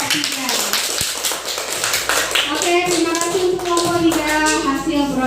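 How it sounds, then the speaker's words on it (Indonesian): Classroom applause for a student group, a dense patter of many hands clapping that fades as a teacher's voice carries on over it. "beri tepuk tangan untuk kelompok 3"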